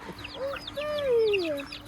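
Chickens cluck and squawk near a rooster as new hens are brought in, a few short calls and one longer drawn-out squawk that rises and falls, heard close and clear over quiet background.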